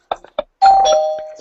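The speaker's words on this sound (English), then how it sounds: "I don't know what the doorbell has anything to do with anything." A doorbell rings with a sustained electronic chime tone after a few short knocks or bumps, loud and close, while people are present in a live show setting.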